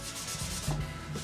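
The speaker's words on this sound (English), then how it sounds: "the good thing about the Scotch-Brite is it kind of scratches it" A Scotch-Brite pad scratches across the painted surface of a metal gas can, a close, steady abrasive rubbing with short strokes and no talk.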